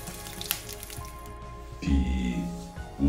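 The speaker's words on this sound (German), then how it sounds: "fülle diesen Topf mit kaltem Wasser an" Cold water pours into a soup pot holding beef bones, a rushing, splashing fill that swells loudly near the end after a quieter stretch of dripping and kitchen sounds.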